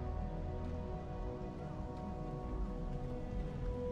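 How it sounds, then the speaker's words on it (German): Rain falls outdoors in the video game Starfield, a steady, even hiss of drops with no voices, holding constant throughout. "Und es regnet."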